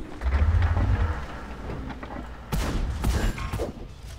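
A tank cannon fires in World of Tanks from a Char Mle 75, a deep rumbling boom that rolls out and fades, followed by a sharper crackling blast and debris-like rumble, with no talk over it.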